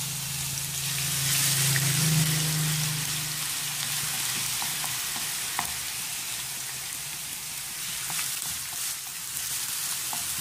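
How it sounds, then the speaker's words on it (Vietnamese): Thin shredded potato strips fry in hot oil in a pan, giving a steady bright sizzle that runs throughout with a few small pops and crackles. "khi dầu nóng này rồi mình sẽ cho khoai vào để mình chiên giòn lên"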